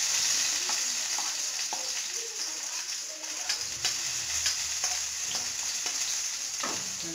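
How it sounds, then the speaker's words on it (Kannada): Onion fries in a pan with a continuous sizzle while a utensil stirs it, giving intermittent scraping knocks against the pan at close range. "ಫ್ರೈ ಆದ ನಂತರ ಈರುಳ್ಳಿ ಒಂದು ಎಷ್ಟೊಂದಿರ್ತೀವಲ್ಲ ಒಂದು ಹಾಕಬೇಕು."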